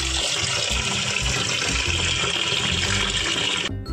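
Raw mutton being washed under a running tap: a loud, steady gush of water hitting a vessel, close and continuous, cutting off abruptly just before the end.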